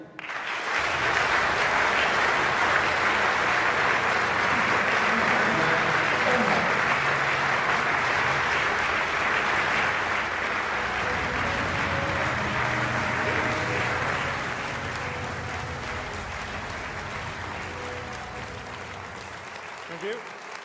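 Sustained loud applause from a large audience at a Conservative political rally fills the whole stretch without pause, easing slightly toward the end; no clear speech.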